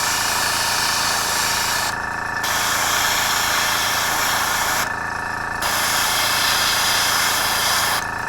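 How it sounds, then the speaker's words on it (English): An airbrush sprays paint onto MDF tabletop terrain in a loud, close, steady hiss, cut off briefly twice as the trigger is released and then resumed; no voices. "even though the airbrush is like getting onto everything"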